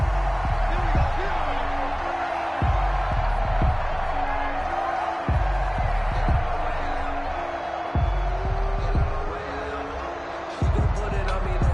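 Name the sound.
stadium crowd cheering, from a video game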